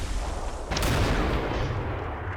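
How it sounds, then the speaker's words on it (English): Mortar and artillery fire rumbles in the video game Blue Dawn, set in the 1999 battle for Košare, with a sustained heavy booming roar that swells partway through and a sharp blast at the start, loud and close. "they're constantly receiving mortar and artillery fire"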